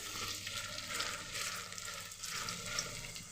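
Onion fritters (piyaji) frying in hot oil, a constant soft crackling sizzle with faint popping, close but quiet and without voices.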